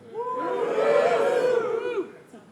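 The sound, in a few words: studio audience cheering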